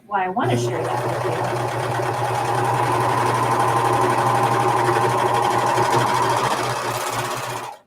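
A Pfaff serger runs steadily while stitching a seam that forms a casing or hem, its fast motor hum loud and close, continuing without pause for several seconds.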